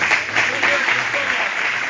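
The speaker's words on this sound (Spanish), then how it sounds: "Un aplauso para el Señor." Dense, steady clapping from a church congregation filling the room during a sermon, with voices calling out over it.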